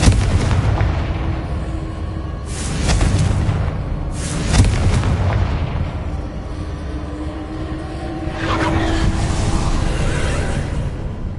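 Blasts from the Confringo fire spell in a Harry Potter video game: loud booming bursts near 2.5 and 4.5 seconds, another swell around 9 seconds, over steady rumbling game ambience.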